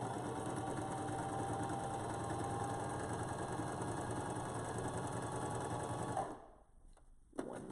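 A sewing machine hums continuously while quilting, a steady mechanical whir held for about six seconds, then stopping abruptly, followed by a quiet pause and a short clunk as the needle settles at the pivot point.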